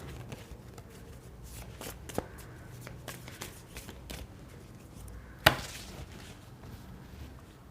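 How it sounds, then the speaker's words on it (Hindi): Tarot cards being gathered and shuffled at close range, giving soft repeated riffling and flicking sounds with one sharper snap partway through and no talking. "मैं सारे कार्ड्स निकाल लेती हूँ फिर स्टार्ट करती हूँ"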